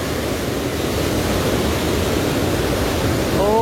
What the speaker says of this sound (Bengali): ও জলের আওয়াজ কি